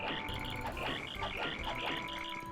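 A hammer attack in Paper Mario: The Thousand-Year Door, with a sound effect meant to resemble chirping crickets, plays as a steady run of pulsing high chirps over game music, loud and continuous.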